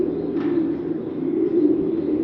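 Adult pair of Morehead pigeons cooing, a low soft continuous rolling coo, close and alone.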